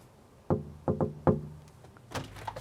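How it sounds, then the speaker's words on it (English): Knocking on a front door while visiting a seller of a Rover Sterling car, with a few sharp close raps in two quick bursts, followed by faint shuffling. "I'll give him a knock."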